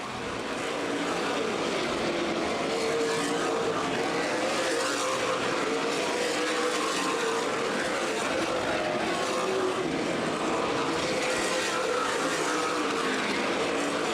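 Pack of race cars circling at Anderson Speedway during a CRA Super Series race, a constant far-off roar of several engines blending into one steady drone with no talk.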